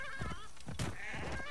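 A goat bleats in the game Assassin's Creed Origins, a wavering, nasal cry that rises and falls over a steady background ambience.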